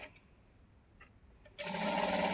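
A sewing machine stitches fabric lining, running quietly at first and then whirring loudly and steadily at close range for the last second.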